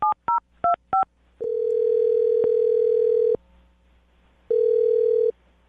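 A few quick dialing tones beep, then a steady telephone dial tone hums for about two seconds, pauses, and sounds again briefly.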